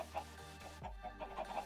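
A hen clucks several times in the Sky Odyssey video game, short repeated calls in a steady run over a faint background hum, loud and near with no talk.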